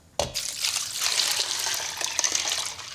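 Lots of water pours steadily into a bowl holding a couple of ice cubes for an egg ice bath, a continuous close splashing rush that starts abruptly and runs throughout.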